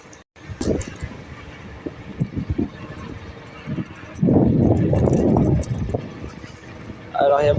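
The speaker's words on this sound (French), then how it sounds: "Alors il y a beaucoup de vent" Strong gusting wind buffets the microphone on a ride aboard an iScooter iX7 Pro 2000W electric scooter, with loud rumbling bursts that swell and fade, mixed with someone talking.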